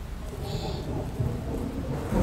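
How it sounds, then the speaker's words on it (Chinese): Rain falling outside with a low rolling rumble of thunder, a steady close wash of rainfall and deep rumbling that swells slightly toward the end of the short stretch. "外面在下雨"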